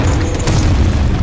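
A grenade blast in the Gears 5 video game lands as one loud, dense boom that fills the whole short moment, with heavy low rumble and no talking over it.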